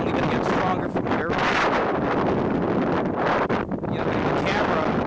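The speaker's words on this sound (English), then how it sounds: "when it captures wind, it's just like, it goes so loud" Strong hurricane wind gusts batter the microphone near Raritan Bay, a loud roaring rumble that surges and dips without pause.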